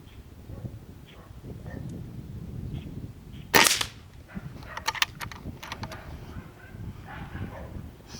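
An airgun fires a 21 grain H&N Barracuda hollow point slug at a 35 yard target, one sharp close crack standing out of steady outdoor wind noise, followed by a few fainter clicks and taps.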